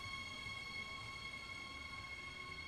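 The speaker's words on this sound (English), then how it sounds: "Finally, my intercity train to Cologne has arrived." Intercity train with double-decker carriages hauled by a locomotive at a German station platform on the route to Cologne, a steady low rumble with constant high tonal whine, moderately faint, no voices.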